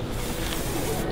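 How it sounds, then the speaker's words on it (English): Royal Treatment Shine Spray misted onto hair in one short, close, breathy hiss that fills the whole moment. "You just spray it a little bit on the hair"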